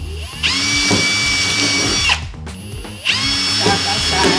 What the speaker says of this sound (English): I'm going to try to drill 2 holes